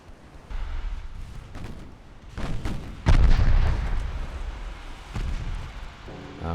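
Heavy naval turret guns fire in a 1908-era dreadnought battle game, a few deep booming blasts rolling out, the loudest near the middle, followed by rumbling echoes.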